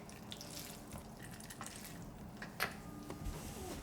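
Salted zucchini and onions are wrung in a large cotton cloth, and liquid trickles and drips out with soft squishy pulses and a few sharper splashes, close by and fairly quiet.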